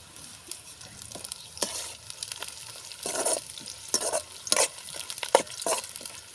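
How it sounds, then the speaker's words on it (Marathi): Onions and green chillies frying in oil for tari pohe, a steady sizzle broken by repeated stirring scrapes and bursts of crackle, close and moderately loud, with no talking. "मिरची होऊ द्यायची कांदे आणि मिरची चांगली होऊ द्यायची तेलामध्ये"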